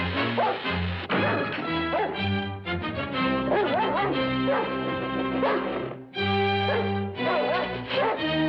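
A dog barks and whimpers in an old 1964 film soundtrack, yips and whines rapid and close over a busy mix with a brief break near the end.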